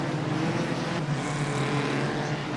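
Hot rod race cars roar around the oval at Wimbledon stadium in 1977, a continuous blend of engines droning loudly from a distance with no clear pass-by.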